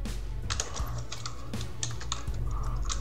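Someone types on a computer keyboard in quick bursts of close, crisp key clicks, with short pauses between the runs and no one speaking.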